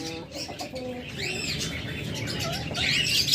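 A pair of pet birds, one lutino red-eye opaline and one blue opaline, chirp and tweet close by with busy, overlapping high calls and soft coos.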